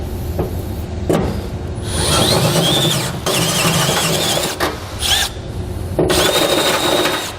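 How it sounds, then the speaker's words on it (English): A step drill bit bores out a hole in the bed of a 2014 Ram 2500 truck, whining and grinding in several loud bursts of a few seconds each, with short pauses and metallic squeals between them. "So again, I'm going to use a step bit. I'm going to enlarge this hole till it's 7/8 inches wide."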